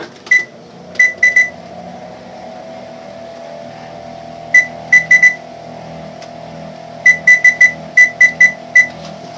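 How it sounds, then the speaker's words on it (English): Kitchen timer being set, giving a series of short, sharp electronic beeps in scattered bursts, single and in quick groups of two or three, over a low, steady kitchen hum. "Set the timer here."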